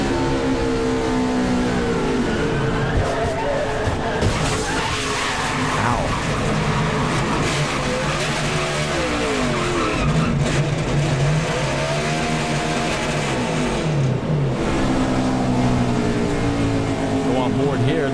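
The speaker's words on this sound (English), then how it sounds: "So we go on board with Bobby Hamilton" Onboard engine of a stock car racing on track, roaring loud and continuous with shifting pitch throughout. Voices talk over the engine noise.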